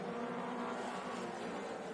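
Race cars lap Hickory Speedway late in a race, a steady, dense roar of engines at a constant distance with no breaks.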